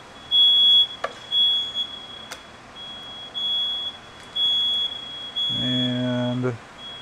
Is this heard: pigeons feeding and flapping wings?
no